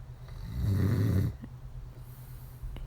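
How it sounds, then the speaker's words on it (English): A man snoring close by, one long rumbling inhale snore followed by quieter breathing and a faint snort, alone without talk. "And he's just holding me and snoring."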